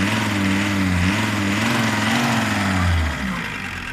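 A T4 tractor engine revs after repair: a loud, close, steady running roar with a throttle blip that pitches up, then settles back as the engine eases off.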